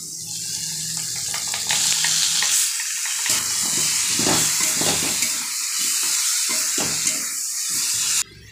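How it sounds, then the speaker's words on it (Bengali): Potatoes frying with spices in a pan: a steady close sizzle broken by repeated scraping stir strokes and soft clatters, without any voices. "আলু মোটামুটি একটু ভেজে নিয়েছি, এখন এর মধ্যেই মশলা দিয়ে দেবো"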